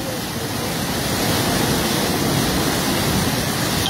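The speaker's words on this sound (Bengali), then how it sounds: "পানির বেগ কমছেই না, বৃষ্টির কারণে, অতিরিক্ত বৃষ্টির কারণে পানি" Heavy rainfall has swollen this river into rushing floodwater, and it roars steadily and loudly as a dense, unbroken wash with no pause from start to end.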